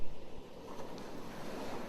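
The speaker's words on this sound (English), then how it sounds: "The sound of the sea splashing against the forecourt walls" A steady wash of sea water surging and splashing against forecourt walls, continuous and fairly even, with a faint wind rumble and no voices.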